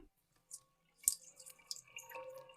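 Excess water drips from a sieve holding soaked globe mallow seeds, a few faint, sparse drops falling in quiet surroundings.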